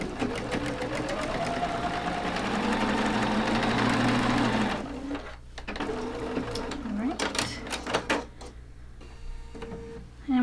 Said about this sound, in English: Make sure when you sew them together that you have the fabric for the houses on the inside.